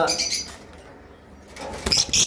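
A pair of green opaline budgerigars chirps in short, bright bursts close by, with a pause in the middle before a louder flurry of chirps and wing flutter at the end.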